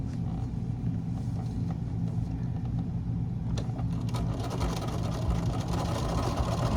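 A sewing machine stitches fabric seams of a 10-inch square bucket, a steady low mechanical drone running continuously at moderate volume.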